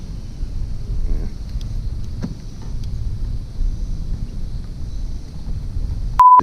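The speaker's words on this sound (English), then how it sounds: "This wind is getting kind of fierce." Fierce wind roars outdoors, a steady low buffeting rumble against the microphone that lasts throughout, with no talking, and a short electronic tone at the very end.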